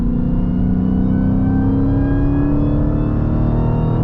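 Steady high-volume engine drone from a supercharged Dodge Challenger SRT Demon cruising in a high gear at moderate revs, a continuous rising whine and rumble heard from inside the car with no voices.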